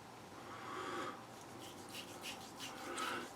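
Hemp shaving balm is rubbed into skin by hand, making a soft, close, quiet smearing and swishing with a few slightly brighter strokes, all faint.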